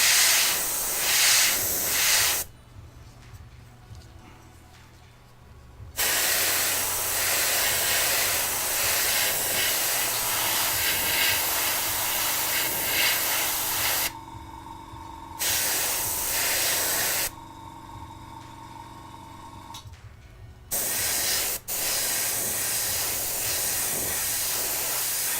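Aerosol paint sprays onto a part of a Tamiya Volvo FH12 1/14 scale RC truck kit in long, loud, hissing bursts, separated by several short pauses, close to the listener.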